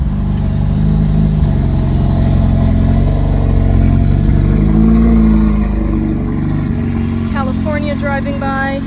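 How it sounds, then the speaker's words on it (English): A car engine runs steadily and loud close by, rising and falling as it revs, with no voices, heard from inside a Ferrari 488 Pista Spider on the road. "Sounds like a car started."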